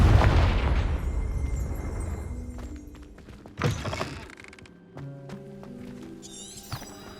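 A Confringo fire spell detonates in Hogwarts Legacy, a loud blast burst that decays into rumbling debris, followed by a sharp secondary thump and scattered game sound effects.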